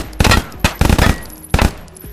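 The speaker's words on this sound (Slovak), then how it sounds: "Na to, že to je SMGčko, no tak veľmi rýchlo sme postrieľali terče" A UMP 45 submachine gun is fired at targets in Minecraft. It comes in three loud, close bursts of rapid shots, each lasting a fraction of a second, with short gaps between them.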